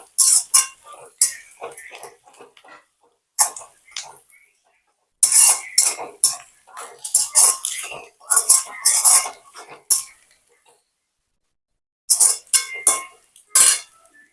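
Spice powder is stirred into food in a metal pot while cooking for a crowd in a village, making bursts of loud scraping and clanking from a ladle against the pot, separated by pauses.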